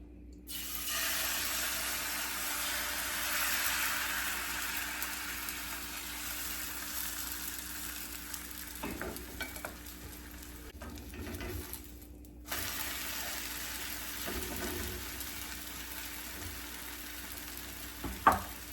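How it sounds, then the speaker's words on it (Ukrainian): Steady sizzling of pancake batter frying in a hot, lightly oiled pan, a soft continuous hiss with occasional clinks and small kitchen noises. "І наливаємо наш блінчик."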